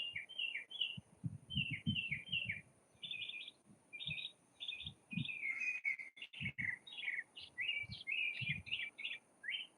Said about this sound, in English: the birds are talking to me